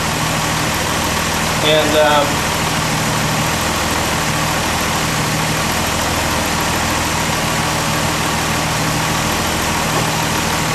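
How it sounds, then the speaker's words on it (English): An Austin Healey's triple-SU-carburettor engine idles steadily at close range, its low rumble holding throughout while a voice speaks briefly near the start. "you can hear the idle going up and down as I start to open the throttle body"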